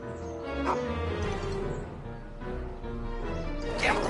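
A cartoon dog in an animated Rick and Morty scene barks and yips excitedly in several short bursts, with whimpering tones mixed among the barks against a busy background.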